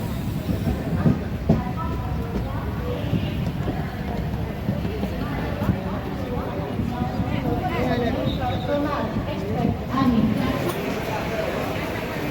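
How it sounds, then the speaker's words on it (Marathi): The Konark Express pulls out of Kalyan Junction in the monsoon, a steady rumbling roll of wheels on rails with faint rhythmic clatter, heard from inside the carriage under onboard voices. "कल्याण जंक्शनवरून आपली ट्रेन निघालेली आहे"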